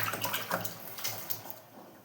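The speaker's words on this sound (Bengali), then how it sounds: "এই জল দিয়ে দিলাম" Water splashes briefly into a cooking pan for a fish dish, a close, hissing pour lasting about two seconds.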